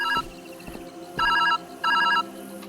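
A phone rings in the video game Viewfinder: three electronic ring bursts with shorter clicks before them, clear and up close, with no talking over it.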